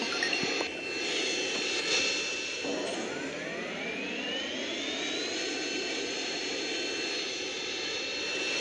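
Aircraft in the Roblox Mad City video game taking off and flying, a continuous jet engine whine that rises in pitch as it spools up, steady and moderately loud with no voices.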